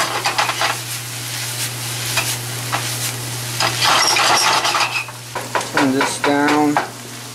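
Onions and meat sizzle and fry steadily in a hot pan, with stirring scrapes throughout; someone speaks briefly near the end over the constant frying hiss.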